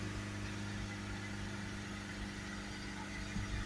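A Honda CR-V with a 1.6 diesel engine idles steadily in a workshop during DPF cleaning, its even low rumble and faint vibration holding constant without revving or speech.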